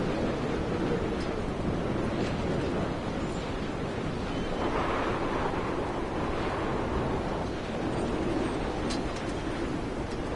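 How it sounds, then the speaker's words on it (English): Steady roaring wind sweeps across a clifftop in the video game Dear Esther, with a broad surf-like rush running continuously throughout and no voices. "Getting very windy up near the top."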